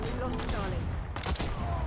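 Gunfire from Call of Duty Black Ops 6 multiplayer with a GRAU 5.56 loadout, rapid bursts of close shots in quick succession with dense game noise behind them.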